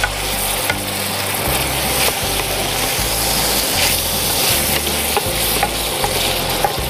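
Pork stir-frying in a wok for Thai pork fried rice, with a loud, constant sizzle and repeated rhythmic scraping of a spatula against the wok, alongside a low rumbling hum from the burner, with no talking.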